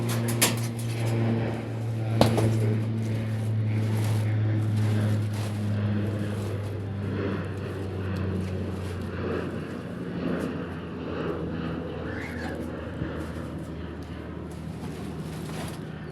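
A steady, low droning rumble of an airplane passes overhead at a distance, heard outdoors where fish are laid out to dry, with occasional handling clatter and some talk.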